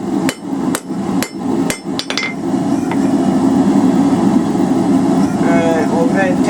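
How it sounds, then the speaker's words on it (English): A blacksmith hammers a steel coal/fire rake on the edge of an anvil with half-on, half-off blows: about six loud, ringing metallic strikes in a quick uneven rhythm, followed by a steady low hum. "Holding it over the edge of the anvil, half on, half off blows."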